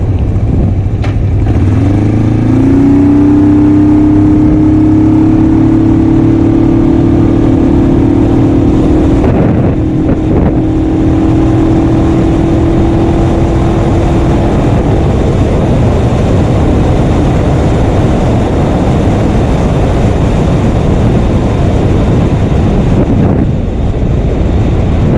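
Suzuki GS450A automatic motorcycle from the 1980s riding along, its engine note rising steadily in pitch then leveling off, with heavy wind buffeting throughout and the drone fading toward the end.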